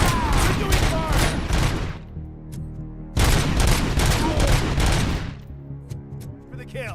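Gunfire in the video game Robocop: Rogue City, loud sustained bursts of rapid automatic shots in two long volleys separated by a short pause, with echoing booms and no speech.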